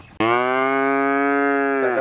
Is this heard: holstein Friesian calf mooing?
yes